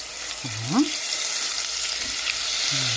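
Butter sizzling in a frying pan before lamb is browned, a steady low crackle through the whole stretch, with brief background voice sounds.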